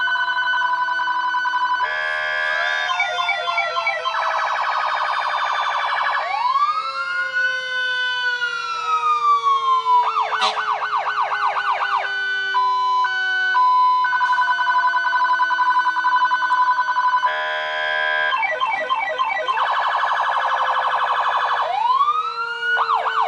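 Several police car sirens leading a parade wail and yelp together, loud and close, their overlapping rising and falling tones cycling continuously with quick electronic warble bursts.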